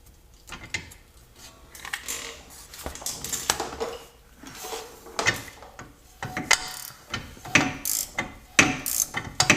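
Ratchet wrench tightening a front stabilizer end link bolt on a 2013 Volkswagen CC 3.6 VR6 4Motion, giving bursts of quick metallic clicking with clinks of tools, close and fairly loud, no talking.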